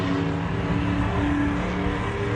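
Off-road 4x4 race cars at the MetalCloak Stampede charge hard into a long right-hand sweeper, a steady loud engine roar held close throughout with no letup.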